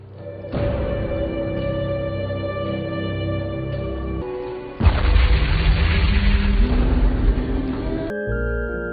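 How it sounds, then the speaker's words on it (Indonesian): A police station explodes in a deep, rumbling boom with a burst of crackling debris, sitting within layered dramatic film sound effects that cut off abruptly. "tidak lama dari itu, kantor polisi meledak bersama The Twins"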